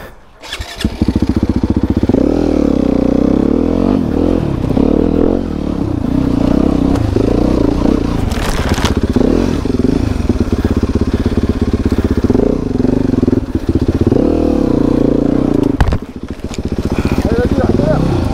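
A loud enduro motorcycle engine idles and revs steadily up close on muddy ground, its rough drone filling nearly the whole stretch, with brief dips and a voice speaking over it.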